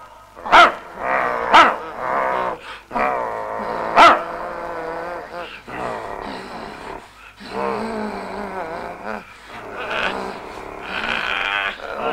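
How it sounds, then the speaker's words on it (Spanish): Several dogs bark in a series of sharp, loud barks, clustered early and then continuing more raggedly, close by, with someone shouting at them. "¡Perros!"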